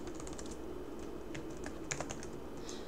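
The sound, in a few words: typing on a computer keyboard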